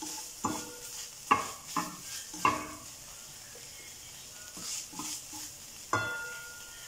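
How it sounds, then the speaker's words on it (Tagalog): A spoon scrapes and stirs through food in a sizzling pan, giving several sharp clatters against a soft background fry, with irregular strokes close by and quiet gaps between them. "Haluin natin."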